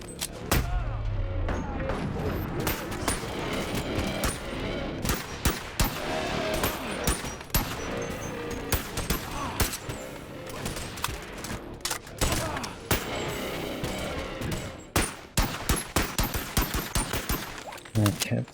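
Rapid handgun fire in the VR game Boneworks during a timed handgun trial, a loud, close barrage of sharp shots coming in quick bursts and clusters throughout, with brief gaps between strings.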